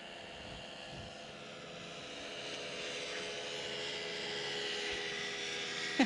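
Small airplane at a 1995 Ste. Genevieve, Missouri flying club fly-in, a steady engine drone that swells gradually as it passes overhead, continuous and fairly distant, with a brief sharp knock at the very end.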